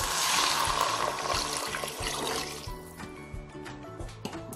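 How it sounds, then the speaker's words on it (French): Water poured into a cooking pot, loud at first as a gushing stream, then tapering into trickles and drips, with a few clinks near the end. "Puis on verse de l'eau."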